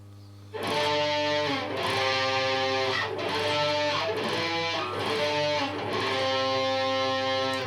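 Electric guitar playing the riff, distorted notes picked in a repeating rhythmic pattern of short phrases, loud and clear after a brief quiet start, over a steady amp hum.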